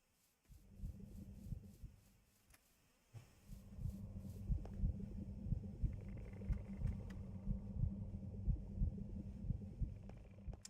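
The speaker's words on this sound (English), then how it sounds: "Interesting heartbeat sound there." A low, steady thumping heartbeat plays in a modded Minecraft server game, with a soft rhythmic pulse repeating under a faint hum for several seconds and no talking.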